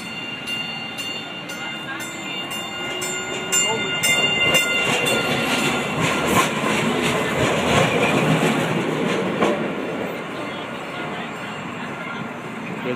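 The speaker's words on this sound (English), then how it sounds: "Good train. There goes the MTA." An MTA Maryland light rail train rolls past nearby in Baltimore with rhythmic clattering wheels and a metallic squeal, growing louder mid-way then fading, with occasional faint voices.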